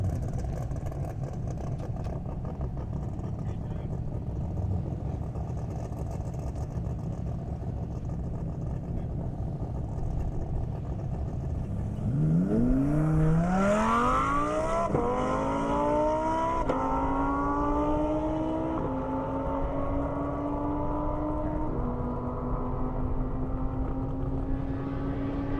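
Race cars including a Toyota Supra and a Lamborghini run on E85 along an airstrip at a drag event, a distant engine drone rising into a loud pass with climbing engine notes and shifts, then holding a steady high whine as it pulls away.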